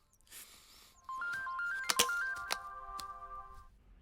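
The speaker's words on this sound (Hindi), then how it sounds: "अब फोन उठाओ।" A phone rings with a bright electronic melody of stepped tones that starts after a second of quiet and carries on for about two and a half seconds, with a few sharp clicks over it.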